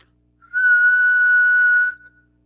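A single steady whistle made with the tongue against the top teeth, one clear sustained high note held for about a second and a half, close and alone.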